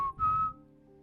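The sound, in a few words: person imitating a whistle signal in reply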